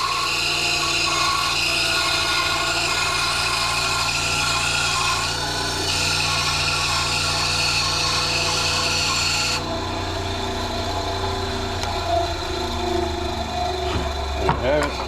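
A bandsaw cuts through wood in a woodshop, a steady rasping whine that continues for most of the span before the tone shifts and settles lower, with faint knocks near the end.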